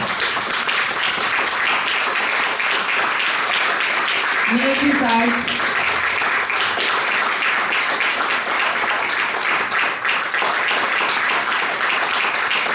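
Loud, dense audience applause at a literary and musical poetry evening, sustained clapping filling the whole stretch while a voice speaks briefly over it partway through.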